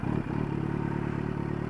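A Kawasaki Z900 inline-four with an aftermarket V-Lane muffler roars loud and close, revving in a sustained raspy snarl with a brief dip early on.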